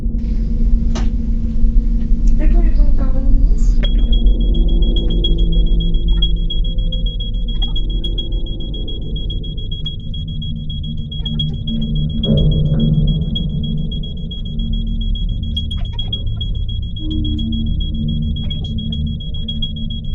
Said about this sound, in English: followed immediately by the smoke detector randomly going off for no reason